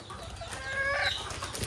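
A white crested native hen clucks near a laying spot on a small poultry farm, a short run of soft clucks over faint farmyard background.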